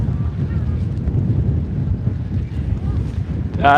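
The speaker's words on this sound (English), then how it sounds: "it's pretty windy" Strong wind buffets a microphone at the top of Cardrona ski mountain in New Zealand, a steady, loud roar with gusty swells that never lets up.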